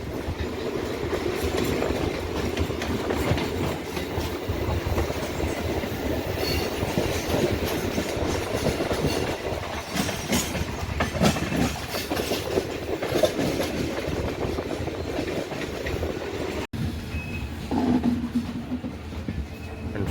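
The West Coast Express train heading into Chennai rolls along at speed, its wheels beating a steady clickety-clack over the rails beneath a loud, continuous rumble, with a brief sharp drop near the end.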